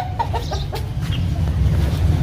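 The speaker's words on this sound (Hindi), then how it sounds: "एक ये मुर्गा है" Hens and a rooster cluck in short, scattered bursts over a steady low background rumble, and no one speaks.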